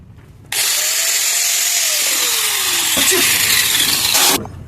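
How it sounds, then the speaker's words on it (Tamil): A small electric motor-driven machine starts up once its loose switch connection has been fixed, running with a loud, steady high whine for about four seconds and then cutting off, with a faint tone sliding gradually downward partway through. "இப்ப பாருங்க, இப்ப மிஷின் ஓடுது"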